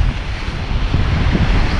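Big ocean waves surge and break on Maho Beach, St. Maarten, a loud, continuous roar of surf close by, with heavy wind buffeting the microphone throughout.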